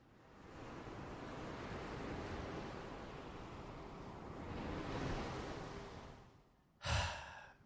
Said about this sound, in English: They get to hear the calming sound of the crashing waves against the shore.